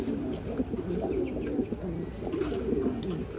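Pigeons coo in breeding cages, a soft, continuous, overlapping low cooing that sounds close and fairly quiet, with no one talking.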